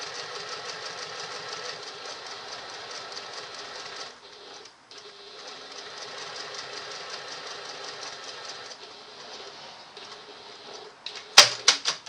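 A sewing machine stitches a small bag's handle at a 3.5 stitch length, humming with a steady rapid needle chatter up close. The chatter pauses briefly, resumes, then ends in a few sharp clicks and clunks.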